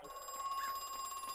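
A telephone rings in the horror video game Crow Country, a thin electronic bell trill held steadily for a brief moment, faint and at some distance.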